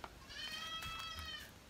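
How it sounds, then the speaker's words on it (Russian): Young goats bleating loudly in a barn at night, several overlapping high wavering cries held across the whole stretch, close and insistent. "Козлята орут громче всех"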